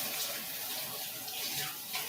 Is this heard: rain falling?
no